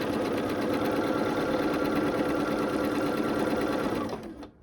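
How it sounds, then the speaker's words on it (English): A sewing machine stitches quilt pieces for an Irish Chain quilt in one steady, close, continuous run that winds down and stops near the end. "And then I'll let it sew."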